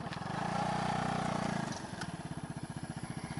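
A motorcycle arriving at a duck farm runs close by, its engine holding a steady tone before dropping to a lumpy, pulsing idle.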